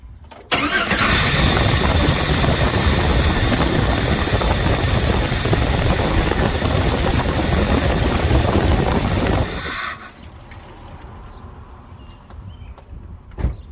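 A car engine cranks and fires up loudly close to the camera in the engine bay, runs at a strong steady roar for several seconds, then settles abruptly to a much quieter idle.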